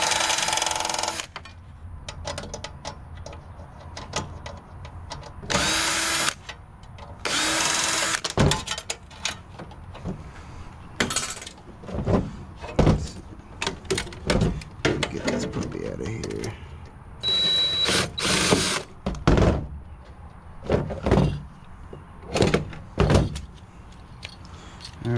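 Power tool pulling screws from a piece of scrap lab equipment, with repeated short high whirring bursts between clanks and handling noises.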